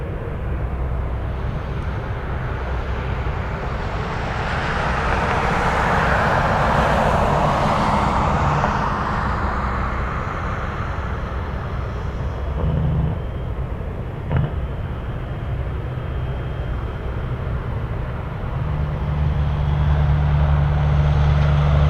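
A heavy cargo jet takes off from runway 33 at Anchorage with a loud, continuous engine roar. The roar builds and swells, then holds as a steady rumble with a low drone underneath.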